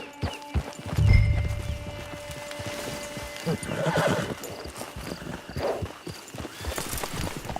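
In Red Dead Redemption 2 Online, a horse whinnies near a camp amid scattered clip-clopping hooves and a heavy thump, with the neighs and steps coming in uneven bursts across the scene.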